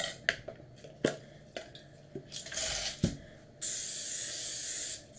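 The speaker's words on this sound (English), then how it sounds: "spray my sheet pan" Cooking spray hisses onto a sheet pan in a kitchen while drop biscuits made from Bisquick baking mix are prepared: a steady, close spray lasting over a second, after a run of light clicks and taps.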